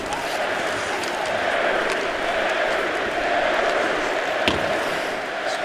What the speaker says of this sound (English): Partisan Canadian fans cheer for Carey Price